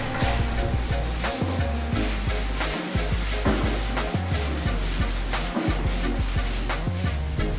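Body shop workers block-sand a car fender, a close, continuous rhythmic rasping with regular back-and-forth strokes and brief pauses, with no talking.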